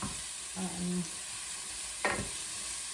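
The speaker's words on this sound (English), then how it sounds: "So just let them fry off for a little while, just until they become slightly translucent." Vegetables fry gently in a pan in a home kitchen, giving a soft, steady sizzle with a brief low hum and one quick stirring scrape.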